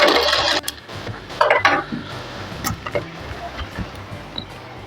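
Sewing machine stitching blouse fabric in short bursts, a loud whirring run at the start followed by intermittent ticks, clicks and handling noises of the fabric being turned.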